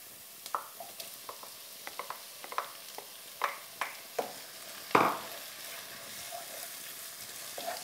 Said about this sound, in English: I've heated my oil, so I'm going to add the onions and fry these for about 5 to 7 minutes until golden brown.